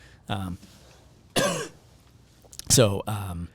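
Four short, harsh coughs with a throat-clearing quality, spaced about a second apart, close and fairly loud against a quiet background.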